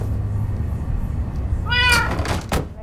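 A cat meows in the Minecraft Story Mode video game, one clear drawn-out meow near the end over a low background rumble, followed by a short knock.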